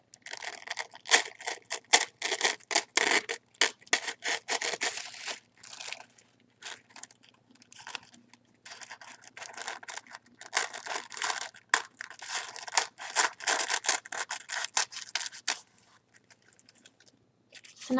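Paper from a Birchbox subscription box is crinkled and torn up close, with rapid crackling bursts and brief quiet gaps between handfuls, no talking over it.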